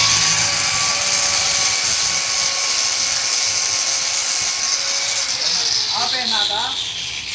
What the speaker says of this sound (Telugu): అట్లా మన దగ్గర ఈ బఫే మిషన్ ఉంటే చాలు,